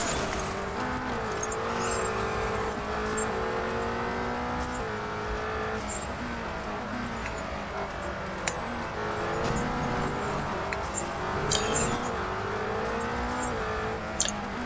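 A McLaren P1 GTR racing at Brands Hatch in Real Racing 3: a continuous high engine drone rising and falling with gear changes and throttle, loud and steady, with faint tire noise and no voices.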